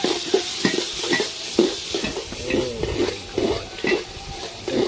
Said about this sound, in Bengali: লসুনটা দিয়ে ভালো করে এইভাবে ফ্রাই করে নিতে হবে।